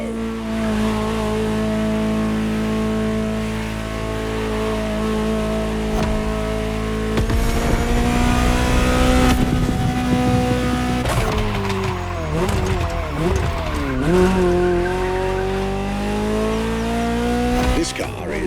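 Ferrari 288 GTO in The Crew Motorfest video game, its engine droning and revving with rising and falling pitch as tyres squeal and skid, loud and close throughout, with a voice talking over parts of it.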